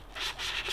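Fine sandpaper roughens the surface of a sail batten so glue will stick. Three quick, close strokes make a soft, raspy rubbing sound with an even rhythm and no talk.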